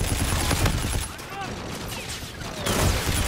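Gunfire in a video game as several players shoot at once: dense, continuous bursts of rapid shots with a brief easing in the middle before the shooting resumes at full intensity.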